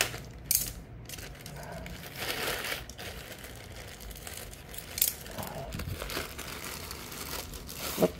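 Plastic packaging on a parcel holding crimp terminals, a circuit tester pen and stainless flat washers is opened, giving soft crinkling and crushing with a few sharper rustles and small clatters, close and moderately quiet, with occasional talk.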